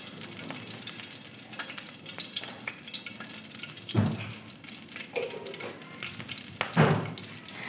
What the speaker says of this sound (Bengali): সাদা জিরেটা একটু লাল করে ভেজে নিয়ে